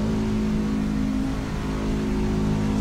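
A fixed-setup race truck in iRacing at Talladega holds a loud, steady engine drone at high revs with a constant mid-pitched tone and no letup, with no voices.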